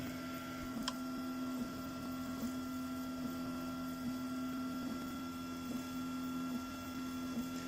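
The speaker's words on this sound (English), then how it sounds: "So that is printing over a gap of about 10mm without any support material." A 3D printer whirs and hums steadily while bridging a gap of about 10mm without support material, with faint rhythmic motor ticks and no voices.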